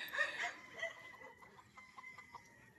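Faint, soft clucking from a chicken on a farm, a few short calls over quiet background noise, somewhat distant.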